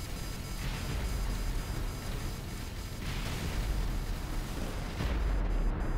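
Spaceship weapons in the Avorion video game fire steadily at a block, making a dense, continuous rumble of booming shots. The barrage stays even and fairly quiet throughout, with no speech.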